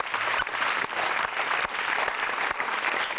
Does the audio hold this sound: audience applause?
yes